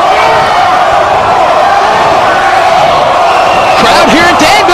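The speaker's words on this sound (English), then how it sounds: "Crowd here in Danville calling for the Gore Grant Sawyer" A wrestling crowd in Danville, Virginia chants and roars loudly and continuously in an arena, with a commentator talking over it.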